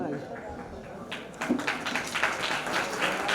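Audience applause at a Shri Dhakad Samaj talent honour ceremony in Ramkund Balaji, Jhalawar, starting as a soft patter of claps and swelling at about the midpoint into dense, steady clapping from a crowd indoors.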